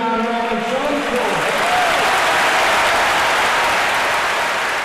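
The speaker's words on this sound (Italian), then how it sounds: "L'applauso inonda il Duomo di Napoli" Applause inside Naples Cathedral after the announcement of the San Gennaro blood miracle, a loud, sustained roar of clapping from a large crowd filling the space, with a voice fading out at the very start.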